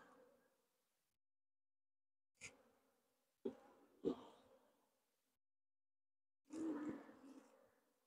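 Honey bees from a captured swarm buzzing around a hive frame, heard as faint, intermittent bursts of droning separated by quiet gaps, with no talk.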